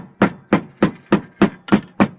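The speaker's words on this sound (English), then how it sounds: "we pound on the roof, we listen for a rafter" A hammer pounds on a flat tile roof in search of a rafter, giving seven evenly spaced, close, dull knocks with hollow thuds and no talking.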